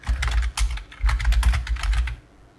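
Rapid, close keystrokes on a computer keyboard come in quick irregular bursts, with short pauses between runs, before trailing off into quiet near the end.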